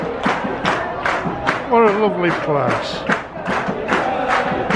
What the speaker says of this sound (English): Both teams now getting the applause from the fans.